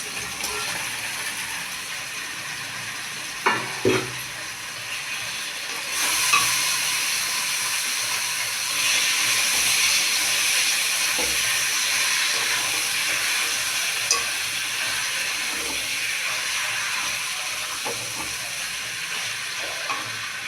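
Fried katla fish pieces sizzle in a pan with chilli powder, a steady close hiss that swells louder partway through, with a few clanks of utensils and no voices.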